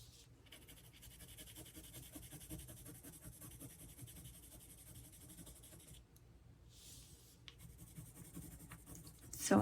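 Watercolor pencil strokes scratch softly on paper at close range, a faint and steady rasp of repeated coloring motions in a quiet room.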